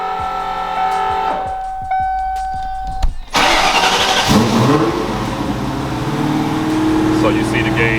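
E85-converted Ford car engine cranking briefly with a whirring starter, catching around three seconds in, then revving and settling into a loud, rough idle, with someone talking over it.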